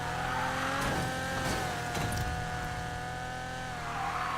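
Nissan 350Z engine in Need for Speed Payback, a steady loud droning rev with layered harmonic whine that wavers slightly as the car holds speed, continuous and close throughout.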